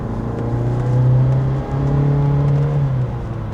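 A car engine pulls with light throttle while turning around at a highway turnaround, a steady close hum with a rising tone and a brief dip midway. No voices are heard.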